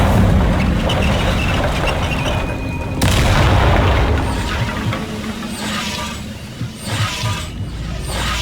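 A fire spell from Hogwarts Legacy bursts with a sharp whooshing boom, then crackles and rumbles with mechanical clatter for several seconds before fading, with no voices heard.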